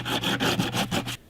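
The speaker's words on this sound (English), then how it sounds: "And I'm using really heavy grit sandpaper." Heavy-grit belt-sander sandpaper worked by hand across a surfboard, six rhythmic rasping strokes back and forth, close and fairly loud, ending abruptly.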